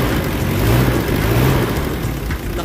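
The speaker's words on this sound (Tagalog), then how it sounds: "Suwabe yung galaw ng makina" A non-turbo Mitsubishi Adventure diesel engine with throttle delay, vibration and low power runs nearby with a steady rumbling clatter, swelling briefly as it revs and then settling back.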